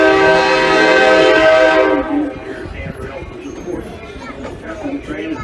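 A loud, sustained horn on the Blue Ridge Scenic Railway train blares for about two seconds, then gives way to the steady rumble and clatter of the train starting to move.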